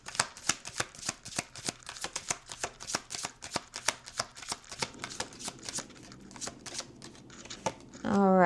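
Tarot cards are shuffled in a rapid, even rhythm of close crisp snaps that slow and thin out toward the end, with a voice speaking under the shuffling.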